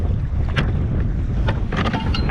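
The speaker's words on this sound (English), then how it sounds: "We're dealing with some wind." Wind buffets a fishing boat out on open water while halibut fishing in rough weather, a steady low roar of gusts rumbling against the microphone with occasional brief hiss bursts, loud and continuous with no talk.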